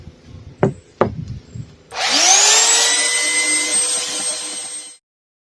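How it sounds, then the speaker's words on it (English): Two sharp knocks on wood, then a loud steady power-tool whine sands a wood carving for about three seconds before cutting off. "let's do some more sanding."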